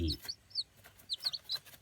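Newly hatched chicks in a budget homemade egg incubator, cheeping in short high peeps repeated irregularly, close but fairly quiet, with a brief low voice at the start.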